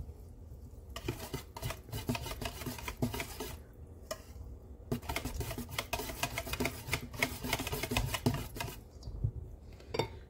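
A lemon is grated for zest to flavor a lemon carrot basbousa. Close, rhythmic rasping strokes come in quick bursts with brief pauses, and no one speaks.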